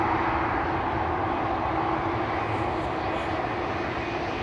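Jet engines of a Croatia Airlines Airbus A220 roar steadily as it lines up for takeoff at Schiphol Airport, a continuous broad rumble heard from a distance with no talk.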